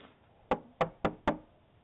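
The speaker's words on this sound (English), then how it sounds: "Unknown person knocked at 1 a.m." Four firm knocks on a door in an even rhythm, close and distinct against a quiet background.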